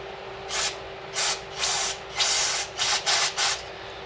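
Brake cleaner is sprayed onto an ATV brake rotor and caliper during a brake repair on a Suzuki Eiger 400 4x4, heard as about seven sharp hissing bursts of varying length, close up, with short pauses between them.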